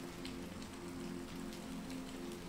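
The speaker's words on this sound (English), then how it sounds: "With a steady rain" Steady rain falls at night in the hills around a cottage, a soft, constant patter and hiss that holds even throughout, with no voices.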